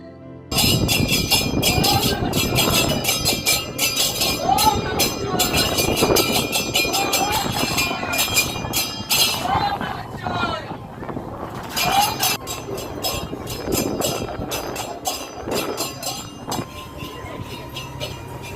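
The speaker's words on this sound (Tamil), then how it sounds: "அப்படியே அதையும் பார்த்துட்டு 2, 3 ட்ரெயின் போச்சு." Loud, continuous rumble and clatter of a train passing close by, with rhythmic rattling of wagons that eases briefly before another long run of clatter.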